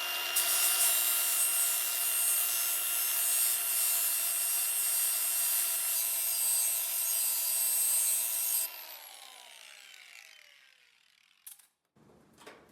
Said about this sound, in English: Let's trim this bottom edge.